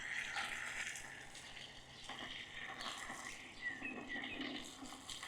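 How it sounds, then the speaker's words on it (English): Water poured into a bucket of charcoal pieces, giving a steady hissing, splashing gush with a faint crackle running for several seconds, fairly quiet and close. "add some water"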